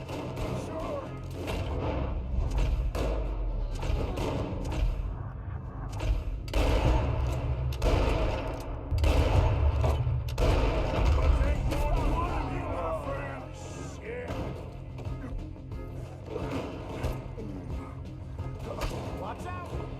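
Repeated gunshots from a firefight in the Western video game Red Dead Redemption 2, sharp cracks and thuds scattered across the scene amid game noise, with people talking over the action.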